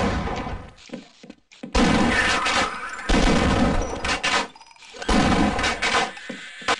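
A grenade explosion in Half-Life is heard amid a dense run of loud game gunfire and blasts, several heavy bursts separated by brief gaps.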